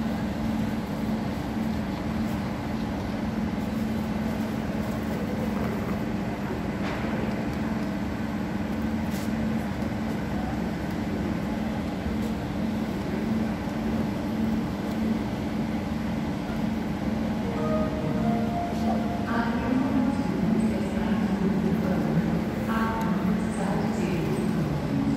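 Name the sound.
inside Graz central train station, Austria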